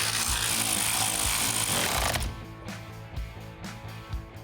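A power tool or impact wrench whirs loudly as it cinches down the bolts on the rear axle cover of a 1970 Mustang restomod. The tool stops midway, leaving quieter clanks and workshop rattles.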